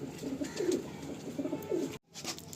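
Kalanka high-flying pigeons coo in a steady, soft, repeated rhythm close by, broken by a brief silent gap near the end before the cooing resumes.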